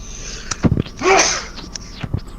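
A single short, sharp sneeze bursts out near the microphone during a tabletop role-playing game session, preceded and followed by a few soft knocks and rustles.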